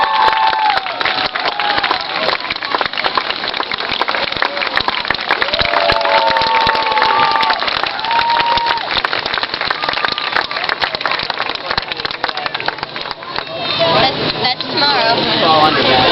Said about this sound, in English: Give them a round of applause for our slalom pyramid act.